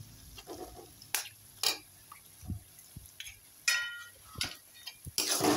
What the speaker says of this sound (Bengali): দুটো ডিম দিয়ে আমি একটু নাড়াচাড়া করে দেখুন